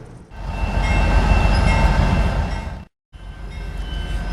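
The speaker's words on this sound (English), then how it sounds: "let's wait for this damn train" A train rumbles past close by beside a river spillway, a loud steady roar of cars and rattling wheels that cuts out briefly, then resumes at a slightly lower level.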